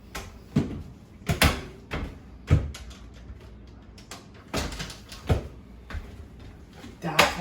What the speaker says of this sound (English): That's why you have a stool, to close the door.